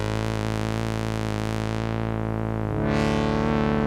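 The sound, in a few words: wow and flutter tape effect from Generation Loss MKII pedal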